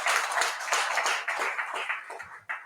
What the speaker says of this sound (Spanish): A round of applause for Jesus Christ.